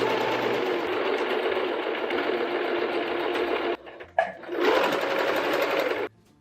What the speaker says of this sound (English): So let's sew this chest piece.